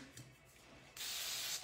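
A short steady hiss of hairspray from an aerosol can starts abruptly after a quiet moment and holds continuously until the end, close and clear.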